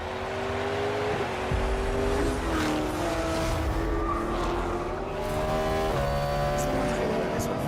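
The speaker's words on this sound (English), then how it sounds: "Various sports cars race around a closed track." Sports cars race around a closed track in a video game, with droning engines whose pitch rises and dips through gear changes. The roar stays loud and continuous throughout, as several cars run together.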